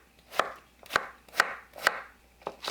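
A knife chopping potatoes into 1 cm cubes on a board: five or six sharp, separate thuds at an even, unhurried pace, close and clear with quiet between strikes.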